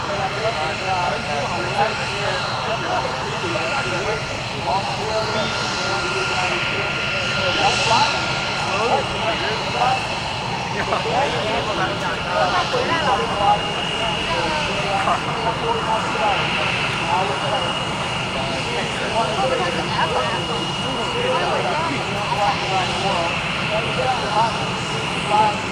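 A C-17 Globemaster III military transport plane drones overhead at an air show as a steady, heavy jet roar, while an announcer talks over it throughout.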